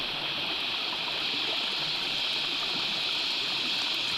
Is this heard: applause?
no